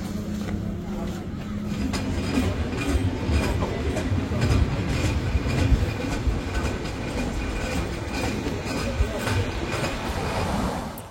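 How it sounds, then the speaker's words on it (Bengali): Ruposhi Bangla Express, running from Dhaka toward Benapole after pulling out of Kashiani station, gives a steady, loud rumble of wheels and carriages with a faint clickety-clack. The rolling sound is continuous throughout. "ট্রেন তার নিজস্ব গতিতে গন্তব্যের দিকে চলতে থাকুক।"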